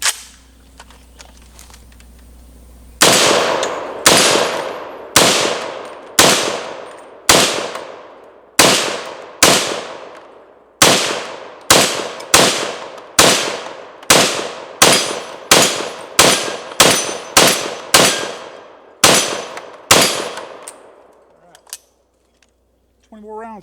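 A KS47 pistol fires about twenty sharp, loud shots at steel targets, spaced unevenly in slow and quicker runs, each crack followed by a short ringing decay outdoors.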